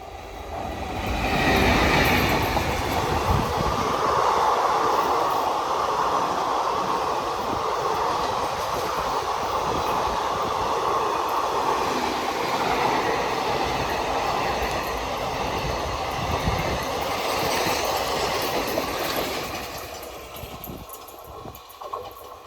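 The Mangaluru Central–Palakkad Express, train 16610, rolls through the small Pallippuram station with a loud, sustained rumble and a faint clatter of wheels. It fades out near the end.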